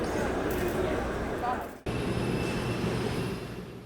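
An ITX-Cheongchun train rumbles at a Yongsan Station platform, a steady loud roar and rattle of rolling cars, broken briefly by a sharp thump before the rumble resumes.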